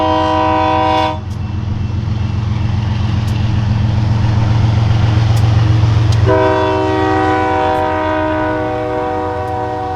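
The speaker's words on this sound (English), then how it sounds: "The first train of the morning is a loaded grain train" A loaded BNSF grain train in North Dakota rumbles past loud and close, its multi-tone horn blaring at the start, cutting out for several seconds under heavy rolling noise, then sounding again near the end.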